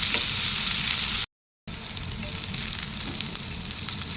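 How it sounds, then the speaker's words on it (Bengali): Onions fry in a pan with a steady, dense sizzle, interrupted by a brief silent gap before the crackling hiss carries on close and even. "পেঁয়াজ লাল লাল করে ভাজবো।"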